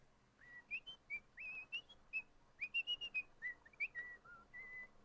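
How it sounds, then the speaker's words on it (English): Someone whistles a meandering tune while working on a Tinkercad design, soft and faint, with short separated notes and quick slides between pitches. "we just whistled while we worked"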